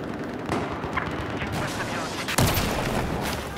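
Gunfire in the Battlefield 4 video game, a steady crackle of shots at mid distance that swells into a louder, heavier burst near the end, under constant battlefield noise.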